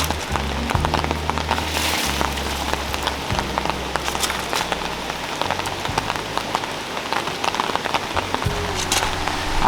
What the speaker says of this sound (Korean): 비 졸라 와서